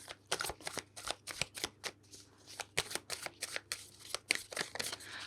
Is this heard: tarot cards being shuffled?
yes